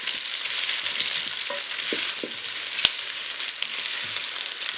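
Meatballs sear in a hot pan with a steady, close, dense sizzle, broken by a few soft clicks and one sharp tap. No voices.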